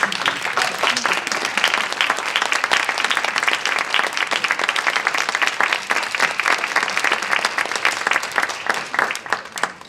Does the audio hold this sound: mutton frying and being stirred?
no